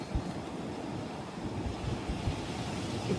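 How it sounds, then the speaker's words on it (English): Steady wind rushes and buffets the microphone outdoors as a storm approaches, a constant rough roar with occasional gusty thumps, no voices. "Oh, a little wind."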